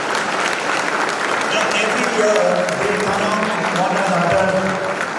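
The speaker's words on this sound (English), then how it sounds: "Please, I would request you guys to give a great round of applause" Sustained audience applause at a college National Pharmacy Week celebration, a broad steady wash of clapping from a large crowd with a voice speaking over it.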